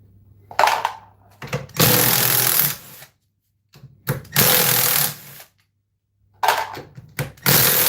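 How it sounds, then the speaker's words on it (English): Impact wrench on Loctite-secured bolts while an EV battery is torn down, firing in three loud bursts of hammering whine separated by short pauses, with quieter clicks before each burst. "I'm glad we used the impact because they're actually Loctited."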